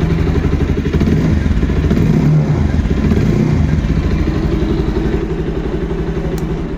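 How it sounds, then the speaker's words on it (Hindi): A 2024 Bajaj Pulsar 220F motorcycle idling and blipping, its exhaust giving a loud, close, throbbing low-pitched rumble with a few rising revs early on before settling into a steady burble, no voices. "तो कुछ ऐसा इसमें आपको एग्जॉस्ट साउंड मिल जाता है।"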